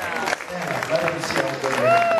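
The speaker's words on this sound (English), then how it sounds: "how about a nice round of applause for a wonderful actor and a dear friend of mine" Audience applause at a live performance at the Irish Open, honoring actor Michael Dante, a modest scattered clapping from the crowd, with a voice talking over it and a few short tonal sounds mixed in.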